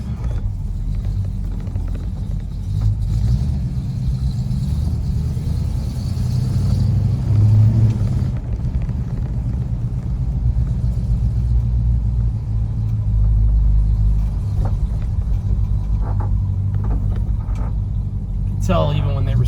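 A 1969 Dodge Charger R/T with a carbureted engine rumbles steadily while driving, a deep continuous low drone heard from inside the car with a slight swell in the middle and a few faint clicks near the end.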